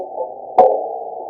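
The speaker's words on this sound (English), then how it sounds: "We were starting with raw sounds that were captured by NASA" A raw NASA space recording: a low steady electronic hum with a brief broadband burst midway, like a crackle of static, then the hum continues faintly.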